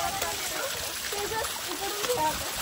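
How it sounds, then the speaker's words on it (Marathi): Falling water splashes steadily nearby at an outdoor spot beside a Maruti temple, a continuous rushing spatter with voices faintly under it. "मस्त पाणी वगैरे पडतं इथून."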